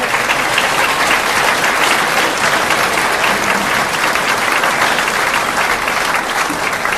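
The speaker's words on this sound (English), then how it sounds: "let's have one more round of applause for our candidates tonight." A crowd at a Pinal County sheriff's candidate forum applauds, loud, dense and unbroken clapping that fills the whole stretch.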